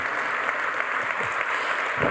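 A church audience at Grace Community Church claps steadily, a dense wash of applause filling the room with no voices above it.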